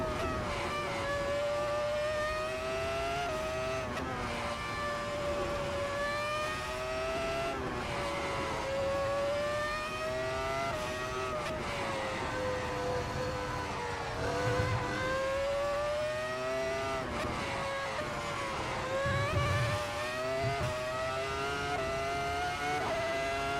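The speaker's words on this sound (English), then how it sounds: "This car sounds so angry. I love the sound of this car." A high-revving racing car engine in a video game whines continuously, pitch sliding up and down through gear changes, loud and steady with no voices.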